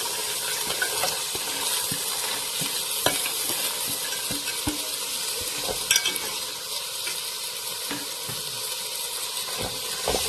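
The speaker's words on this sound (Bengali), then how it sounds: "ভালো হবে ভালোভাবে মশলাটাই মিক্স করে নেবো" Spices for French lentils are stirred in a frying pan over a continuous sizzle and hiss, with irregular scraping and tapping strokes of the spoon against the pan throughout and no talk.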